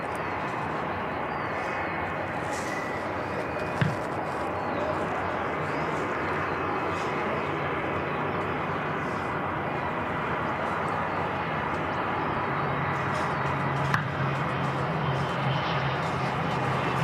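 A C-17 aircraft's jet engines run with a steady, broad roar and whine, continuous and fairly distant, at Christchurch Airport in wet conditions, with a couple of faint clicks.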